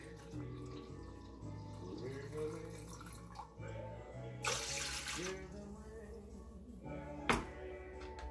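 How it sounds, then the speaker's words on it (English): A cup of vinegar is poured for pickled eggs: a short liquid splash and trickle near the middle, set against steady tonal humming and kitchen background, with a sharp knock near the end. "now We're gonna do a cup of vinegar"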